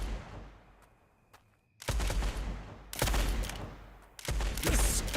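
Enemy gunfire in the video game Blood West: a few sharp isolated shots over quiet, then loud dense bursts of rapid fire in three separate volleys.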